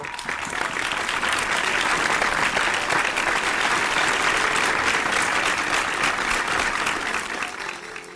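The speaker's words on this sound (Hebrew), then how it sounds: "קבלו אותם במחיאות כפיים סוערות." Stormy applause from a concert audience greeting performers before a musical medley, a thick, loud, continuous roar of many clapping hands that holds steady throughout and eases slightly at the end.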